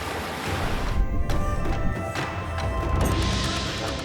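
Ocean surf along the Southern California coast, a loud continuous wash of breaking waves with low rumbling crashes and some wind buffeting the microphone.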